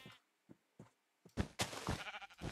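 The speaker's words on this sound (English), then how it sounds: "I can pick up a sheep. I can just throw it." Sheep in Minecraft being picked up and thrown, a few short separate bleats followed by a denser cluster of louder bleating toward the end.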